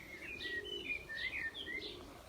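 Racing pigeons in a loft coo and chirp softly at a distance, a few overlapping calls over low background rumble, with no talking.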